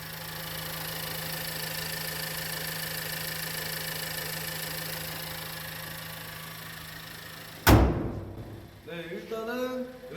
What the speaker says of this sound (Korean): 일단 바로 그냥 엔진 소리 들려드릴게요.